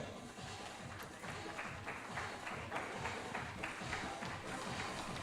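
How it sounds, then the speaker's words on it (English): An audience at an award ceremony claps together in a faint, steady round of applause, dense and even throughout. "we can have the round of applause a little more louder"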